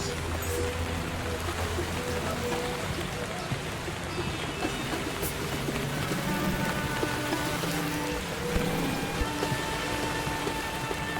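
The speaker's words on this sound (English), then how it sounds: "gotta be honest, I did not expect rain." Rain in a video game falls in a steady, dense patter on surfaces, constant throughout with scattered tonal game sounds and a voice talking intermittently over it.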